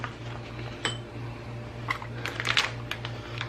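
Pieces of sausage dropped into egg bite cups for copycat Starbucks egg bites, giving a few soft, scattered clinks and taps against a steady low hum, with no talking.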